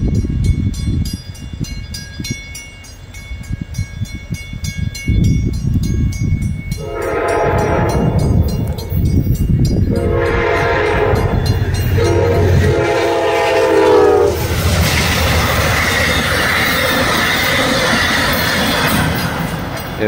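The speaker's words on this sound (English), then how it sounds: "Amtrak Downeaster going to Maine, coming from Boston." An Amtrak Downeaster passenger train nears Newton Junction in New Hampshire, a loud rumble building as its horn blows several long blasts, the last overlapping the roar and clatter of the cars passing close by.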